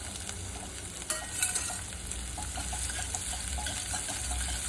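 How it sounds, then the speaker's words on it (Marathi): Cashews and almonds sauté in a pan for vermicelli sheer khurma, giving a steady, close sizzle and frying hiss with light stirring clicks throughout, no voices. "हे काजू बदाम वगैरे आपण परततो, त्याचा खूप सुंदर वास सुटला आहे."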